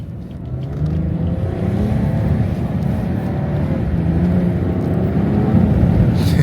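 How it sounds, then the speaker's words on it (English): A 400hp BMW 340i does a small drift, heard from inside as a loud, steady engine drone with rising pitch and road rumble, alone without talk. "Just did a small drift there."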